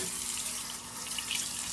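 Cold water pours from a tap over a bare cast iron pan, a bright continuous splashing hiss close by, running steadily without pause and with no talk.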